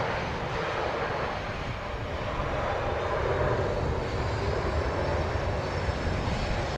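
A Southwest Boeing 737 passes over the runway threshold on landing, its jet engines a broad steady roar, loud and sustained without voices.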